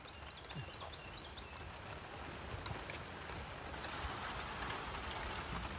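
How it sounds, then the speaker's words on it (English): Steady rain patters continuously in a back pasture, a soft, even hiss of drops with no one speaking. "I'd say it's no longer sprinkling, it's now raining."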